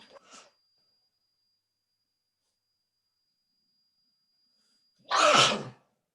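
A single loud, sharp sneeze bursts out in a quiet classroom during an intermediate algebra lecture, following a brief moment of speech and a long stretch of near silence.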